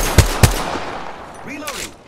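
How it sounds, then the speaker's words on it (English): Two sharp, loud gunshots in quick succession in Apex Legends, followed by a fading tail and a faint whooshing game effect. "The enemies are shooting at me."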